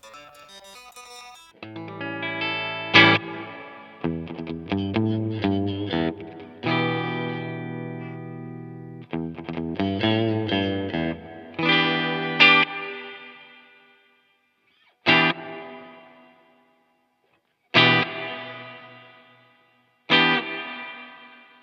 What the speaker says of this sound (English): The time before the reverb kicks in, so it lets a little bit of dry signal through.